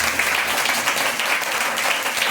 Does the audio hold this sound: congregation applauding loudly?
yes